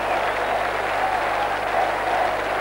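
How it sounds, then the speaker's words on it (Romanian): Sustained applause and crowd noise from a stadium of football fans at a Steaua versus Dinamo match, dense and even throughout, rising to a loud wash. "o acțiune aplaudată"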